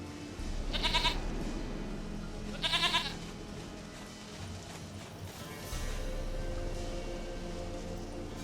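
Goat bleats in The Witcher video game: two short wavering bleats about two seconds apart over a low ambient game background, then a steady hum.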